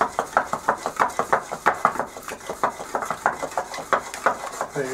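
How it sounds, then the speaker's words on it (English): Pil-pil sauce being worked with cod in a pan, a steady rhythmic run of soft clattering and sloshing pulses, about two or three per second, close and moderately loud with no talk. "There you hear the sound of pil-pil."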